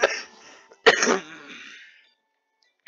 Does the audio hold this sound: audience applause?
no